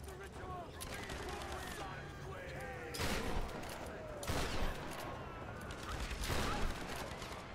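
Rapid automatic gunfire in Rise of the Tomb Raider rattles in the background, with several louder bursts standing out amid mechanical clatter and talking.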